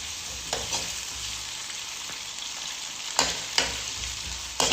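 Potatoes fry with sautéed garlic and ginger in a pan, giving a steady bright sizzle, with several sharp stirring scrapes scattered through and a louder clatter at the end.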